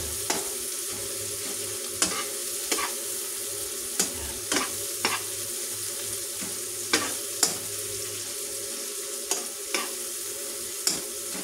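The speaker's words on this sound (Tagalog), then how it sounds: "natin itong piga-pigain yung ating kamatis para ito ay madurog" Tomatoes being crushed and stirred in a pan of sautéing chayote, cabbage and ground pork, with a steady sizzle and repeated sharp utensil scrapes and knocks at irregular intervals, close and clear with no talking.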